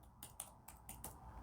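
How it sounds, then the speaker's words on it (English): Quick typing on a computer keyboard at a desk, a handful of sharp key clicks in irregular bursts, close and fairly faint, with no talking over it. "I'm just typing a quick response to one of those comments here."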